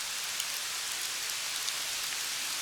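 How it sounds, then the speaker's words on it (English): Rain mixed with sleet falls steadily, a dense, even hiss of drops and pellets pattering on surfaces with no voices. "Got a little rain, sleet mix."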